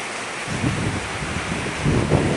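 Steady gusting wind with a broad rushing wash of afternoon rain, rising in strength toward the end; no voices.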